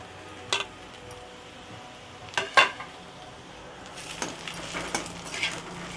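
Chopped capsicum and onion tipped into a hot pan for cauliflower Manchurian, then stirred, with a few sharp clatters of the spoon against the metal and a soft, steady sizzle rising underneath.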